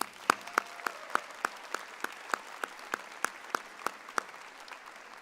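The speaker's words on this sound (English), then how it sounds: "Let's give those folks a round of applause as well." Sparse applause at a college graduation ceremony for business, industry and health sciences, heard as slow, evenly spaced single claps that ring out distinctly in a large hall with little crowd noise between them.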